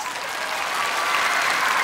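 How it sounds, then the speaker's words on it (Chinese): A television dance-competition audience applauds a children's dance troupe, a full, steady roar of clapping from a large crowd that holds evenly from start to finish with no talk over it. "哥哥姐姐叔叔阿姨爷爷奶奶都在为你们鼓掌"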